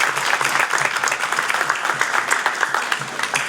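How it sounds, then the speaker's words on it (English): An audience at a student startup competition applauds loudly and continuously, a dense patter of many hands clapping close by with no pause. "Please give them a round of applause."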